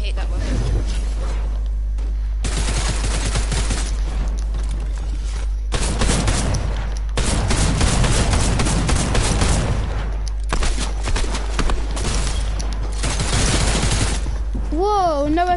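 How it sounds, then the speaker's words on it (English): Rapid SMG fire in a shooter game crackles in long, loud automatic bursts separated by short pauses, with booming impacts underneath and a brief rising electronic sound at the end. "that's definitely an SMG"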